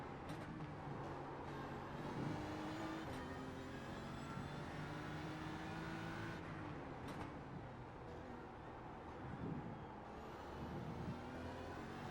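Porsche race car engine in a racing video game at Imola, a continuous droning engine note with rising and falling pitch sweeps as it accelerates, steady and fairly loud throughout, with no talk.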